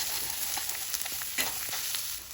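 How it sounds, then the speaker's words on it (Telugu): Onions fry in a pan for a curry, a close steady sizzle with brief scraping stirs and small crackles, heard alone without speech. "మీరు చూసారా ఆనియన్ అయితే బాగా వేగింది ఇంకా బాగా వేగాలి"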